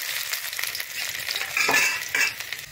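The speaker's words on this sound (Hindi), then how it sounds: "हम कढ़ाई में डालते हैं कटी हुई अदरक" Chopped ginger hitting hot oil in a kadhai, a bright crackling sizzle with scraping stir strokes, close and loud, swelling in two bursts near the end.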